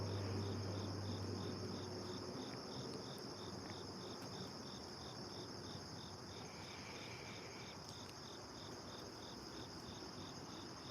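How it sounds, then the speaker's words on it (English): Crickets chirp steadily outdoors on a morning, a fast, even pulsing that runs unbroken across the whole stretch, moderately near, over a soft background hum with no talking. "You guys hear the crickets?"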